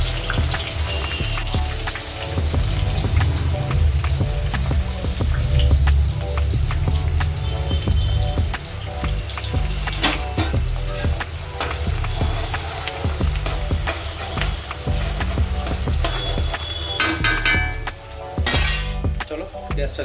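Onions fry in hot oil with a dense, crackling sizzle, continuous and close, with occasional stirring clatter over the top.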